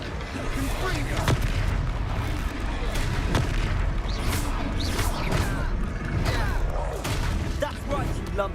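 Spell explosions from a Confringo fire spell in Hogwarts Legacy combat: several sharp booming blasts, near and loud, over continuous battle noise and clatter, with character voices calling out in between.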